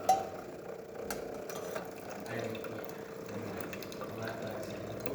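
Hot water runs in a steady stream from the spout of a Jura coffee machine. It makes a continuous, even hiss and splash at moderate loudness throughout, with faint background noise.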